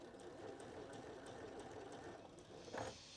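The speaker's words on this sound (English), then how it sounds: "Okay, we've almost got this sewn all the way around." A sewing machine stitching around the edge of a fabric tote bag with French seams, a fast steady whirring hum that runs quietly throughout and ends with a short louder mechanical clunk.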